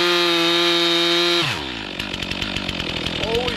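A chainsaw felling a tree runs at a steady high rev, then bogs down and drops in pitch as it bites into the trunk, chugging and rasping up close and loud.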